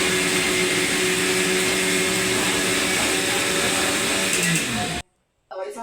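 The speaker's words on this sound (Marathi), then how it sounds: "फायनली मिक्सर चालू झालं." A kitchen mixer grinder runs with a loud, steady, close motor whir for about five seconds, then cuts off abruptly, leaving near silence before faint sound returns.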